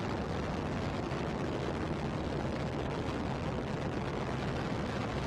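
A Northrop Grumman Antares rocket roars at full thrust while carrying a Cygnus spacecraft to the ISS, a dense, steady broadband rumble that holds loud and unbroken from start to finish.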